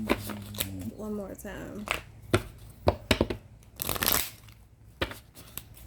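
A deck of cards is shuffled up close, with quick papery riffles and flicks in short bursts. A person talks over the shuffling.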